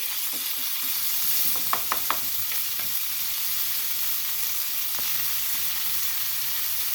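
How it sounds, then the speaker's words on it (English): Seafood in gochujang, ginger and garlic sear-frying loudly in a hot pan, a constant crackling hiss with a few sharp clacks of a utensil stirring. "sear frying for like 1 or 2 minutes on each side and give them a stir"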